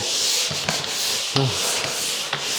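Drywall finish being sanded on a wall, a steady close scratchy rasp with a few brief louder strokes and scrapes, no voices.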